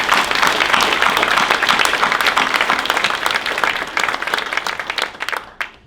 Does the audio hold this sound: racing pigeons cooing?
no